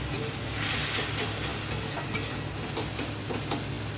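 Chicken meat sautéed with a little spice in a pan gives a steady hissing sizzle, broken by a few light scrapes and taps of a stirring utensil, close by.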